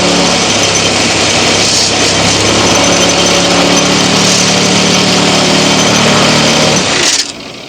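Power tool sanding 1.5-inch EMT conduit for a homemade lightsaber hilt, a steady loud whine with tonal hum running continuously for about seven seconds before it shuts off abruptly.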